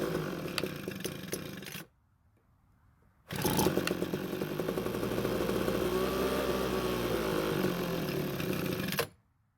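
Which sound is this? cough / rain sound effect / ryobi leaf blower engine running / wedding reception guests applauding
ryobi leaf blower engine running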